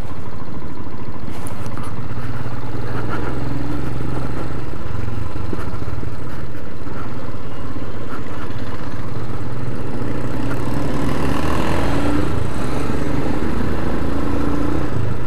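Motorcycle engine with a knocking fault runs steadily, recorded up close near the engine guard, a constant loud mechanical drone and rattle that holds for the whole stretch with no talking.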